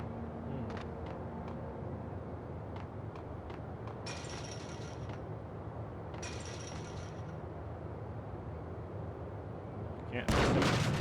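Shotgun fire in the video game Max Payne: a few sharp, distant-sounding blasts spaced apart, followed near the end by one much louder, close, crackling burst.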